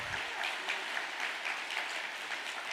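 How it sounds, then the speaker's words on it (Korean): A religious gathering's audience claps in steady, even applause of thanks, a dense round of hand claps heard continuously without talk. "감사의 박수를"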